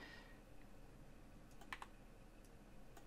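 Quiet keystrokes on a computer keyboard tap out in a short, irregular burst, with a few sharper clicks near the middle and no speech.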